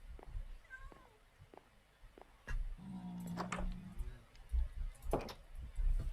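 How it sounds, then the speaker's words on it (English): A pet cat in the Minecraft video game meows a few times, short mewing calls repeating over a quiet ambient background with scattered small game sounds. "there's my pet cat"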